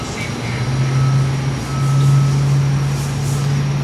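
Big plane braking hard after landing at Perth airport, a broad steady engine roar and rumble with a low droning tone, heard loud and continuous from an indoor viewing area.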